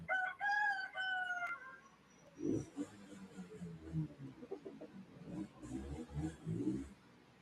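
A rooster crows at the start, a loud drawn-out call with clear harmonic bands, followed by someone talking over low farmyard noise for the rest of the stretch.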